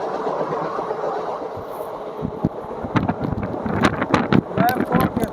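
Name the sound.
train passing by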